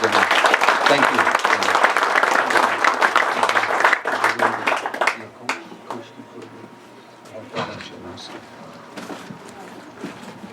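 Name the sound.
round of applause from audience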